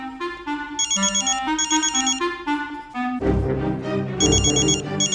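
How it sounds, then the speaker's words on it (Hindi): A telephone rings with a repeated bright electronic bell-like tone in bursts, loud and close, then a clattering, busier patch joins in partway through; no one speaks over it. "ओ इस वक्त किसका फोन आया?"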